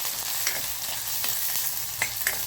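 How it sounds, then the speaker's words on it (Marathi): Chopped onion sautéing in a pan, a continuous soft sizzle with occasional scraping stirs of a utensil against the pan, close and fairly quiet, with no talking. "एकच कांदा छोटा कट केलेला होता। तो देखील छान असा परतून घेऊया"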